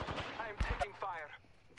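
Gunfire in the video game Apex Legends hits the player as a quick burst of several close shots in a rough rapid rhythm. The burst is fairly faint and fades out after about a second.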